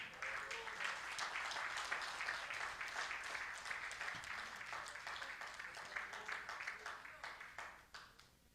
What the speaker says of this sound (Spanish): Denle un aplauso al Señor en este momento.